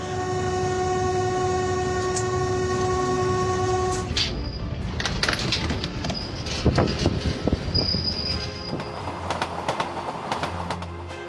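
A train running on a railway line, first as a steady loud drone, then a rumbling, clattering passage with sharp metallic squeals and clicks from the wheels over the rails.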